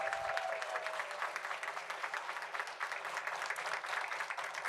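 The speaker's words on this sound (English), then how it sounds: "so let's give them another round of applause" An audience at a school board of education meeting applauds students, a steady wash of clapping from many hands in a room, moderately loud and continuous for several seconds.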